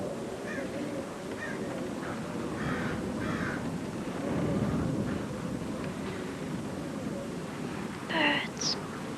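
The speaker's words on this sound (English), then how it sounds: "Birds." Birds call outdoors at a distance, scattered faint caws and honking cries over a steady murmur of background noise, with a clearer, louder call near the end.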